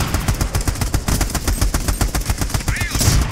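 Rapid automatic gunfire in the video game Army of Two, loud and continuous bursts of closely spaced shots with a faint voice fragment near the end.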